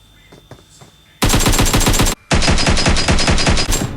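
Rapid automatic gunfire from the video game PUBG, two loud sustained bursts of closely spaced shots with a brief gap between them, following a few quieter sounds at the start, with no talking.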